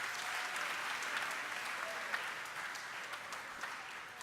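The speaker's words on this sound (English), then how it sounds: "Let's give our faculty, staff, and administrators a big round of applause." A crowd applauds at a 2019 high school commencement ceremony, with broad, sustained clapping from a large audience that stays loud and even throughout and slowly tapers near the end.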